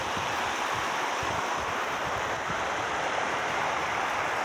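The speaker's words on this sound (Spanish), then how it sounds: "estamos aquí en el río Pativilca" Steady broadband rush of the Pativilca river flowing, a continuous wash of water close by with some wind buffeting the microphone, no voices.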